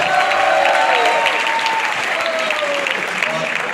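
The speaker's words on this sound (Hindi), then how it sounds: "एक बार जोरदार ताली तो बनती है" A large crowd at a live motivational event in Jaipur claps loudly and continuously, a thick, even roar of applause with some voices and cheering mixed in.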